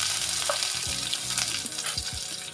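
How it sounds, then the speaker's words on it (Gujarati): Onion and whole spices sizzling in hot oil with mustard seeds and curry leaves for Kathiyawadi kadhi, a close crackling fry with a few scraping stirs and no voices. "એમાં આપણે ખડા મસાલા નાખીશું આપણે ડુંગળી નાખી દઈએ"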